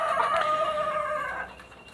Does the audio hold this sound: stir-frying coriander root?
no